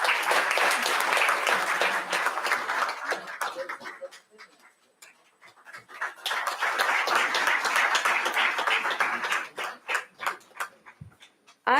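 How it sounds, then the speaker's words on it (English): An audience at a college event claps in a dense, loud burst of applause that fades briefly in the middle, then swells again into sustained clapping before thinning out. "A big round of applause, please."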